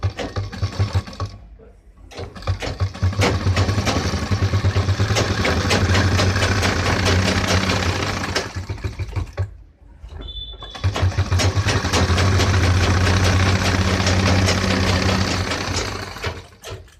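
A sewing machine stitches a pant seam in two long, steady whirring runs, each followed by a brief stop, loud and close with no talking.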